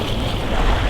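Loud, constant wind buffets the microphone over choppy open water during a Squib keelboat sailing race, with the rush of waves and the moving boat beneath.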